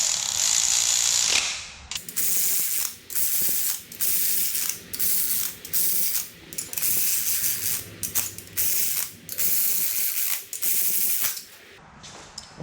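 A torque wrench set to 15 foot-pounds ratchets sharply in quick repeated bursts, with short pauses between them, as it tightens the cap bolts on an LQ9 engine during a rebuild. No one speaks.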